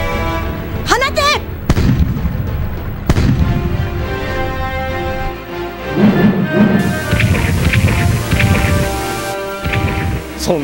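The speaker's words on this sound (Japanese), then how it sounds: "主砲、1番2番回せ。 射撃用意。 1番2番射撃用意。" Main cannons boom repeatedly in a Dreamcast naval battle scene from Dancing Blade, with sharp explosive blasts layered over game music and voiced dialogue throughout.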